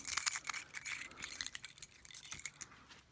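A bunch of keys jangles and clinks in a bag as they are counted out one by one, bright metallic chinks coming in quick irregular bursts close by, with no talking.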